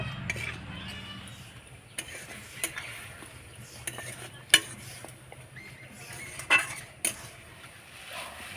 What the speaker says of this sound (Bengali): এবার নাড়াচাড়া করে আমি পুরটা তৈরি করে নেব